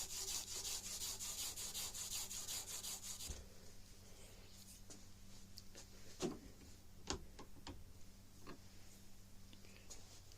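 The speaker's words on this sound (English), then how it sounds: "Basically with the Scotch Brite, all I'm doing here is just polishing the bluing and taking a little bit of the bluing off" A Scotch-Brite pad scrubs a blued rifle barrel in fast, steady rasping strokes, then slows to scattered light rubs and a few sharp knocks, faint and close with no talking.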